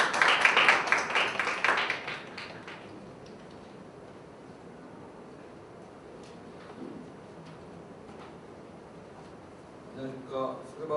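Applause from a seminar audience rises in a dense burst of clapping for the first few seconds, then fades out, leaving a quiet room with faint noises before a voice begins.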